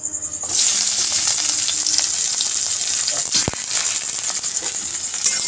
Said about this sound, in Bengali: কড়াইয়ে যে তেলটা আছে এর মধ্যে পেঁয়াজ আর লঙ্কা কুচি রেখেছি সেটা দিয়ে দেবো